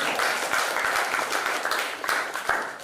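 An audience at an expert talk gives a round of applause, a steady burst of many hands clapping, fairly close and even, with some separate sharp claps standing out near the end.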